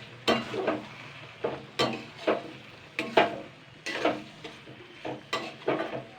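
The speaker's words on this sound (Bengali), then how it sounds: "সয়া সসটা দিয়ে একটুখানি নাড়াচাড়া করে নেব" A spoon stirs gravy with soy sauce in a hot pan, making repeated scraping strokes against the metal in an uneven rhythm over a soft, continuous sizzle, close and fairly loud.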